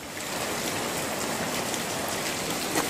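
Heavy hail pounds down in Stavropol, a dense, loud, unbroken roar of stones striking surfaces close by, with no voices over it.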